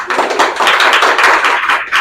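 A crowd at a religious celebration claps together in a dense, steady patter, with many hands sounding fairly close and loud and no talking over it.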